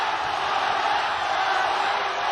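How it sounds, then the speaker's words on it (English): A big fight crowd in Tokyo roars and chants steadily at an MMA bout featuring Aung La N Sang, a loud, dense wall of voices with no breaks. "This crowd going bananas here in Tokyo. They are chanting on La's name."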